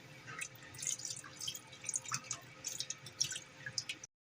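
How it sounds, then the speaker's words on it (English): Chicken broth poured slowly into a pot for a homemade chicken pot pie, a soft, steady trickling and dripping stream running close by with no talk, stopping abruptly at the end. "now we are going to add 3 cups of chicken broth. And you're going to add that in slowly."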